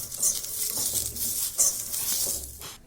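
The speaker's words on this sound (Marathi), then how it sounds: "शेंगदाणे असे मंद गॅसवर भाजायचे, म्हणजे छान भाजले जातात ते." Peanuts dry-roasting with a dash of oil in a kadhai over a low gas flame, with a steady soft sizzling hiss and gentle stirring scrapes throughout, a brief louder rustle near the middle.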